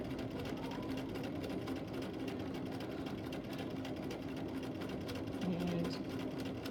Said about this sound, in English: So again, I'm pivoting, lift and turn, and that time I did it pretty much close on to 5/8.